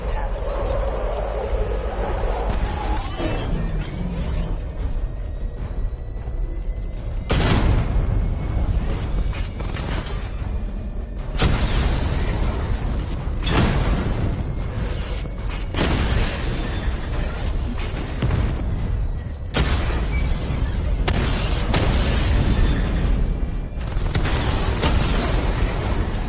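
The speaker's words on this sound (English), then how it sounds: "Charge up missile barrage to level 2 and destroy 4 active targets" A video game missile barrage sets off loud, heavy explosions, with booming bursts landing roughly every few seconds over a continuous rumbling roar.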